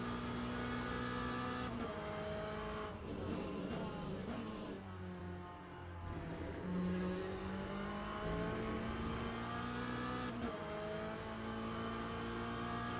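Race cars in Le Mans Ultimate roar at high revs, the engine note rising and dropping with gear changes over several shifts, loud and continuous throughout.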